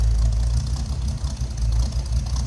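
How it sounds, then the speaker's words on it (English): A 350 V8 in a 1936 Chevrolet Master Deluxe street rod idles with a steady, deep low rumble, close and continuous with slight pulsing. "A little rumble coming out of that 350."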